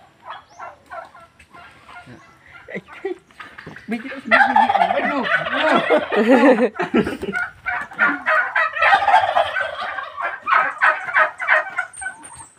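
Several turkeys gobble in repeated loud bursts, calling over one another up close, with short pauses between calls.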